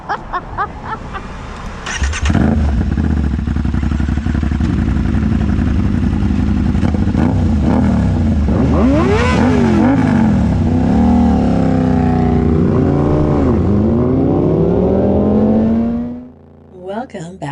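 An Aprilia 660 motorcycle with an SC Project exhaust revs hard to redline, a loud close roar that rises and falls in pitch through repeated pulls before cutting off abruptly.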